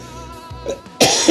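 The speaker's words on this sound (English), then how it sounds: "I'm turning the mic down when I cough like that" A close, sharp cough bursts out after a moment of quieter tones, followed by a second rougher cough.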